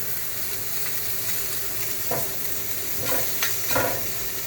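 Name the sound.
food caramelizing and sizzling in a pan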